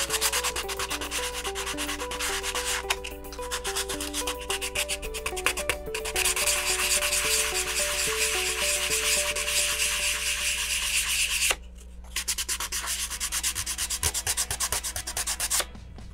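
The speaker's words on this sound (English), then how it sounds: "I'm going to be sanding for a long time here" Sandpaper rubs back and forth over a model rocket being restored, a loud, close, continuous scratchy hiss that runs for the whole stretch with only a brief pause and no talk.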